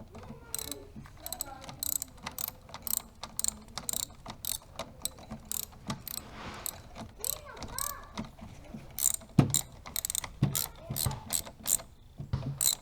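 Ratchet wrench tightening a car battery terminal, rapid clicking pawl bursts in quick repeated strokes, close and fairly crisp with brief pauses between runs.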